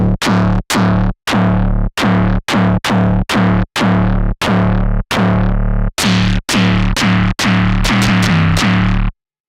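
Loud, harsh synthesized tones from a phase distortion audio effect, with a distorted, buzzy timbre, play in short repeated bursts separated by brief silences.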